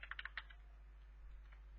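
A few quick keystrokes clatter on a computer keyboard while an SQL insert query is typed, a brief burst of about five taps followed by quiet room tone.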